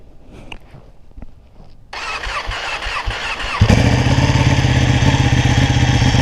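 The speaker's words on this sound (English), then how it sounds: "Let's go ahead and get you guys a cold start" A Ducati motorcycle that has sat neglected is cold started: a quiet lead-in, a starter cranking, then the engine catching loudly and settling into a steady, rumbling idle close by.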